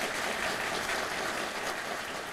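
An audience at a Korean justice ministry inauguration speech claps in a steady, moderately quiet round of applause, uniform and unbroken for the short stretch.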